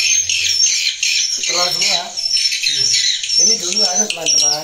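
Recorded swiftlet calls played inside a swiftlet house: dense, high, chattering twitters and squawks repeating in bursts, with a voice-like murmur mixed underneath.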